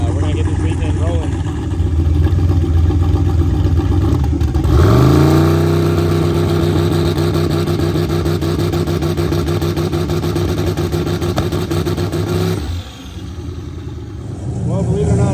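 A truck engine running a 2-step launch control check at a racing event: loud, close revving that rises sharply, holds a steady high buzzing drone for several seconds, then cuts off and drops back toward idle.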